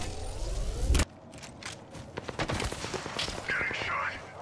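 Gunfire in Apex Legends: a loud, dense opening burst cuts off sharply, followed by scattered sharp shots and impacts, footsteps and game noise, with a voice speaking partway through.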